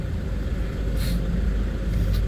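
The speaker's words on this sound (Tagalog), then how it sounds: "ilang minutes na ako na traffic dito" Road traffic in Baguio City, a steady low rumble of car engines in slow, congested flow, with a couple of faint brief higher hisses passing by.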